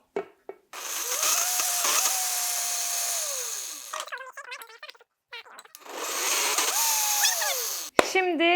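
Blender whirring through parsley, karnıyarık herb powder and spices in two loud bursts of several seconds each, motor pitch sagging as it labours, with short clattering pauses between runs.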